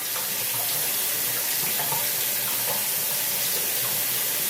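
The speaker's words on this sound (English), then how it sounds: "just running some hot water over it. I just have it upside down like this in my sink" Hot water pours steadily from a tap over an upside-down shaving scuttle in a sink, a continuous close splashing hiss with no pauses.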